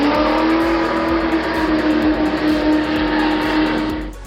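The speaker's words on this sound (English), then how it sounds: "The motorcycle accelerates to 100 miles per hour in 4 seconds." A custom trike motorcycle accelerates hard, its engine roaring loud and close with a rising tone that holds steady, then drops away at the end.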